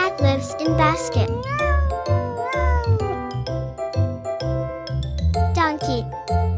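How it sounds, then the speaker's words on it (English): A cat meows over a cheerful children's music track with chimes, in a kids' song about animals and where they live; the meow is clear but woven into the busy music. "A cat lives in basket."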